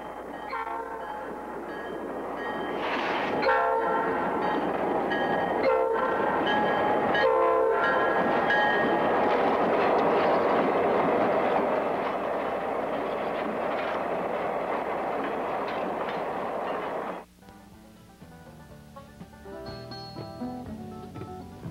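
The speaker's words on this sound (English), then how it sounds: "Southern's Jeep 38-2, number 5058, switches the yard." A Southern Railway 38-2 diesel switcher, number 5058, works a rail yard, its engine chugging loudly with horn blasts and clanking car noise for about seventeen seconds before cutting to quieter, tonal horn sounds.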